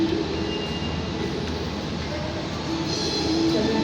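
The Sancaka passenger train sits at an Indonesian railway station platform, giving off a steady, loud broadband rumble and hiss that continues unbroken throughout, with no talk.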